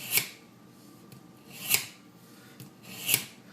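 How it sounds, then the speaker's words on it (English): Knife sharpening on an Edge Pro Apex sharpener: three evenly spaced abrasive strokes, each a short bright scrape against the stone, quiet and close with faint rubbing between. "And I'm going to start sharpening."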